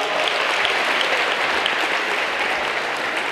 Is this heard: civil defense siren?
no